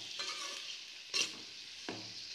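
Sliced tomatoes added to onions frying in a pan for drumstick puli kulambu, giving a steady close sizzle with a few louder stirring scrapes and no talk.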